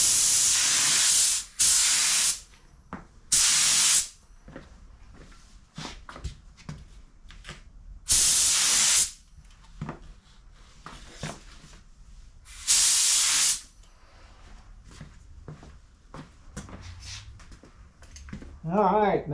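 Broad hissing bursts from an LVLP spray gun laying a light to medium coat of automotive clear, five separate passes of about a second each, separated by quieter handling noise and brief talk.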